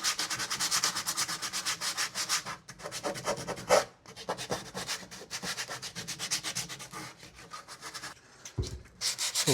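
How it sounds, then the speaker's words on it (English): Rough, scratchy strokes of sandpaper worked by hand across a wooden overland storage build, in quick uneven bursts with a few brief pauses, close by. "So I'm gonna sand some of this down by hand."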